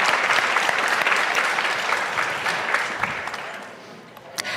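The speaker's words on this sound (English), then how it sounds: "so yes, clap." An audience at a talk on presidential elections and democracy breaks into sustained applause, a loud, dense clapping that tapers slightly toward the end.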